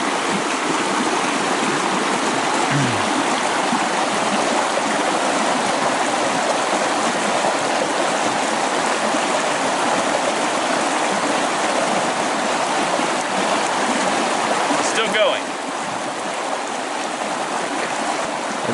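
A river flowing through woods, a continuous broadband rush of water, close and loud, steady for the whole stretch with a brief faint knock near the start and a short sharp click later on.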